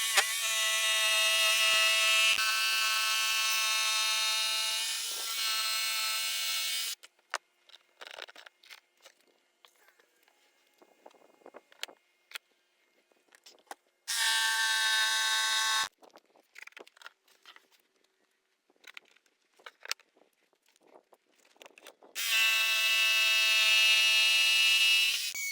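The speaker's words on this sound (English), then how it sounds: "Now this jigsaw with the Festool blade in it works really good." A jigsaw fitted with a Festool blade cuts plexiglass for a router plate in three loud, close bursts of high whining buzz, separated by quieter gaps of handling clicks and knocks.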